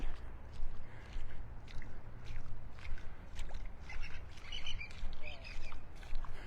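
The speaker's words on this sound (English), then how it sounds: "A willet bird yelling in the background." A willet calls with repeated loud, shrill cries on a Florida Gulf beach at Delnor-Wiggins, heard over steady surf and wind, with other scattered bird sounds around it.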